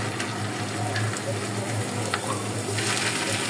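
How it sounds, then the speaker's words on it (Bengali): Potato sticks fry in hot oil in a large frying pan, giving a dense, continuous close-up sizzle that stays even throughout. "তো এই তেলে আমাদের এই নাস্তাটা ভাজা হয়ে যাবে।"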